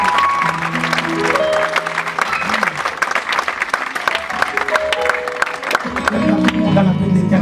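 A church congregation at a Sunday family service claps loudly and cheers together, with sustained applause and raised voices filling the room throughout.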